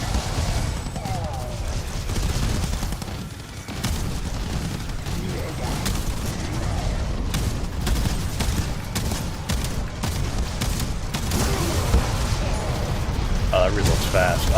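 Rapid gunfire and reloading in a first-person shooter, dense bursts of shots and mechanical clicks running continuously under a voice.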